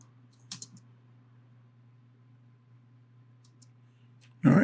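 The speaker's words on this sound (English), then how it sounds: "hit my spacebar" A computer keyboard spacebar pressed once with a brief click, followed by a few faint clicks and a louder burst at the end over a quiet steady hum.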